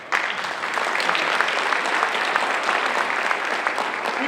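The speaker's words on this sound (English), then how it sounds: "So you owe yourselves a round of applause for all your efforts." Parents at a high school senior academic awards ceremony break into applause, a dense, steady round of clapping that starts abruptly and carries on evenly for several seconds.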